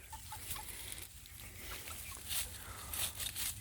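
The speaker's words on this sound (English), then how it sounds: "They're out here playing woods chickens." Chickens cluck softly outdoors in woods, with scattered faint clucks and rustling patter over quiet background noise and no talk.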